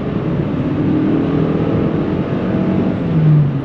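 Toyota Crown 2.5 hybrid crossover pressing on at high speed, a steady broadband road and engine drone with tyre roar, fairly loud and continuous, swelling slightly near the end, with no talking.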